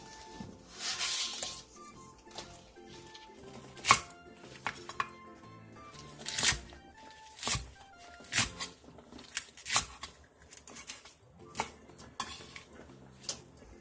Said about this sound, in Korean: 대파 1개를 길게 반으로 가른 뒤 3cm 정도 길이로 잘라주세요.